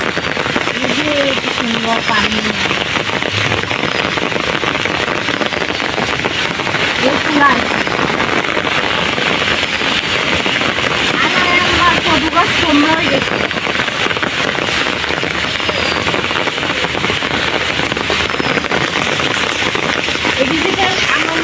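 Steady heavy rain pours during Cyclone Remal in Chittagong, a dense continuous hiss over a garden of chili plants, with people talking faintly underneath.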